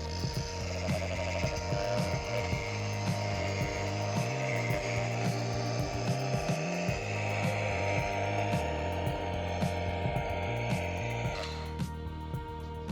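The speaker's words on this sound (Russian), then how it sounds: "Я это буду делать при помощи болгарки с меховой насадкой." An angle grinder fitted with a fur pad polishes wax into lime-based Venetian stone-effect plaster, a loud steady motor whine with rhythmic rubbing pulses throughout that stops abruptly near the end.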